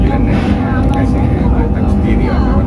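A loud, steady low rumble fills the cabin of the Whoosh Jakarta-Bandung high-speed train as it crosses a steel bridge, with constant deep roar and faint higher hiss.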